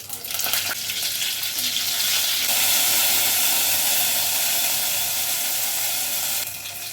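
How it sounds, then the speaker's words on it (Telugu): Mustard seeds, cumin, dry red chillies and curry leaves crackle in hot oil for a tempering, a steady close broadband sizzle that swells slightly midway and holds loud throughout, with no talking. "ఆయిల్ అయితే వేడైందండి, ఇంకా ఆవాలు వేస్తాం, జీలకర్ర, ఎండుమిర్చి వేసేస్తాను"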